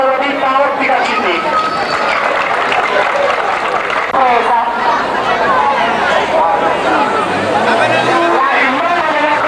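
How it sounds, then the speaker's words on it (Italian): A crowd at a 1992 town gymkhana event applauding steadily, a dense continuous wash of clapping blended with chatter and voices across the whole stretch. "quindi un buon applauso alla ditta ottica CD"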